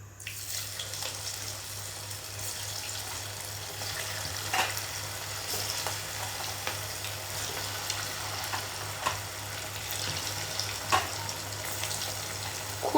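Marinated pieces coated in flour and cornflour fry in hot oil, giving a steady close sizzle with scattered pops and crackles over a low, constant hum.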